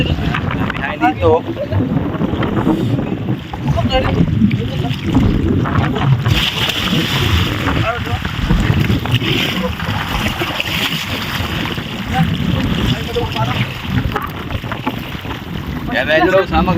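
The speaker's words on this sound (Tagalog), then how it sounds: "Sobrang hangin" Heavy wind at sea buffets the microphone throughout with a loud, constant low rumble, while voices talk faintly underneath.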